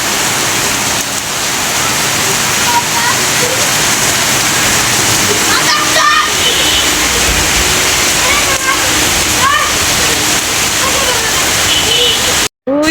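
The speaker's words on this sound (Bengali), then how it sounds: "এই যে টিনের চালে থেকে যে পানি পড়ে ওইখানে নিচে দাঁড়িয়ে আছে" Rainwater streams off a tin roof in a constant rushing splash where children stand beneath it, with faint voices now and then under the pour and a brief drop-out near the end.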